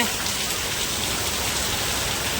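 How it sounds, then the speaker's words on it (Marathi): Heavy rain pounds down in a dense, unbroken roar, loud and close, with no voices or other sounds breaking through. "जबरदस्त पाऊस आलाय कधीपासून चालूच आहे"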